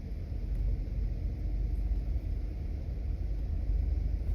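A car circles slowly around a casino, heard as a continuous low engine and road rumble from inside the cabin, steady and fairly loud with no voices.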